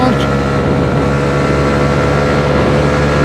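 A 2021 Honda CB125R motorcycle cruises at around 105 km/h, its engine holding a steady, continuous drone mixed with rushing wind noise, loud and unbroken throughout.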